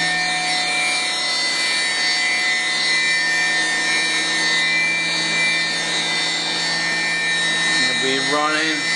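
A Brother TC-22 four-axis CNC machine spindle runs at 10,000 RPM, giving a steady loud whine with fixed tones throughout and a brief rising sweep near the end.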